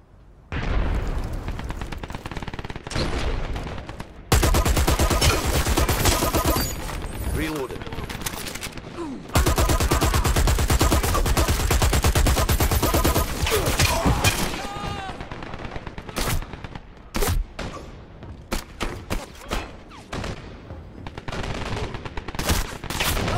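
Gunfire in the online shooter game Dirty Bomb, loud and nearly continuous, with rapid automatic bursts, single shots and occasional booms over about twenty seconds.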